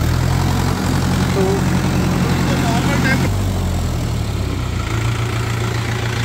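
A Mahindra 575 XP Plus tractor engine runs loud and close with a deep steady throb, shifting pitch slightly as it is revved, while someone talks over it.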